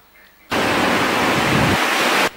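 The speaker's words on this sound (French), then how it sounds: "ces vagues détruisent tout à leur passage" Destructive waves on Lake Tanganyika crash against the shore as a loud, dense, broadband roar that starts abruptly, holds steady for almost two seconds and then cuts off.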